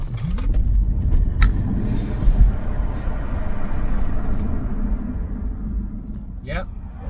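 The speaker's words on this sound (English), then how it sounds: "We've got to check out the acceleration." A Tesla Model 3 Performance with its rear motor accelerates hard, giving a low steady rumble with rising road and wind noise, and people talk over it early and late in the run.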